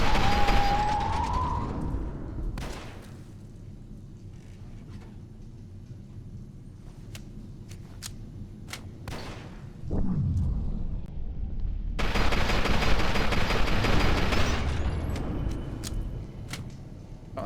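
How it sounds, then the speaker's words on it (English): Enemy gunfire in the first-person shooter F.E.A.R. 2, heard as sharp, scattered shots and booms in bursts, with a quieter stretch in the middle and a denser, louder barrage near the end, accompanied by low game rumble. "No, they're shooting me."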